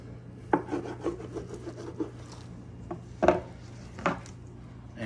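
A dull knife saws through a smoked Texas brisket flat, giving a series of short rasping strokes and soft knocks against a board over a low steady hum.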